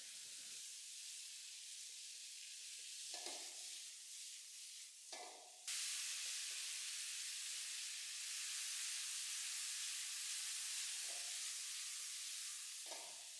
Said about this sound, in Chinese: 撒一把食盐，大火快速翻炒。